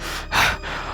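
A man pants heavily, out of breath after running up from behind in the small hours, with a single sharp, close gasping breath rising and fading over a second.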